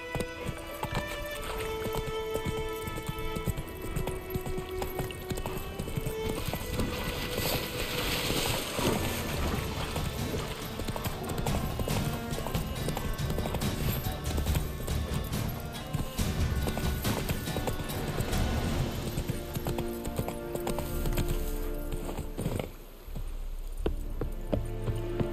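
The horse Roach galloping in The Witcher 3: Wild Hunt, hoof clip-clops running continuously under a dense game music and wind soundscape, with a brief snort near the middle.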